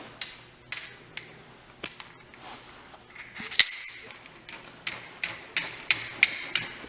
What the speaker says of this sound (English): So first step, let's throw a jam nut on.